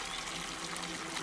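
Shower water running steadily in a film scene on a remote island, a continuous broadband hiss of spray that stays even and fairly loud throughout with no talk.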